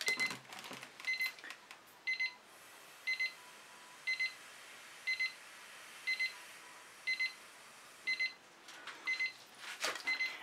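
A kitchen-style timer beeps in short, evenly spaced double bursts about once a second, fairly faint over a quiet room, during a contemporary fluid art painting session.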